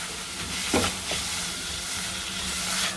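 Onions, tomatoes and red chilli for Maggi noodles sizzle and fry in a pan, a loud steady hiss with a couple of scraping stirs near the start.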